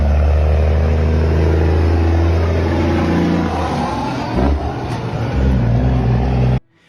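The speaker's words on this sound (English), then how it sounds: "The truck accelerates. The engine note changes" A heavy truck engine drones loud and close while the truck accelerates, its pitch shifting midway with a splitter transmission change. The note settles deeper and steadier before cutting off abruptly.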